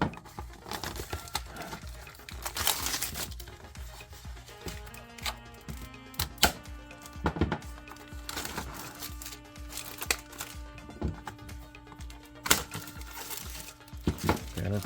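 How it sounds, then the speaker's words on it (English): Nylon shrink wrap packaging around a Kobalt 28-piece SAE and metric combination wrench set being cut and torn, heard as close, irregular crinkling and crackling with sharp snips and scattered clicks, no talk. "we'll go ahead and cut this nylon shrink wrap"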